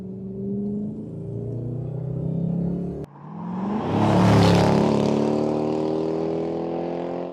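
A Jaguar XK8's engine idles steadily, then revs up with a rising whoosh around the middle before settling back to a smooth, fairly close hum as the car is backed out of a garage.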